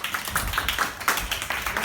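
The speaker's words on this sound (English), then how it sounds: "Give Ty a round of applause." A classroom audience claps for a student's Chinese presentation, a dense patter of handclaps running steadily throughout at moderate volume.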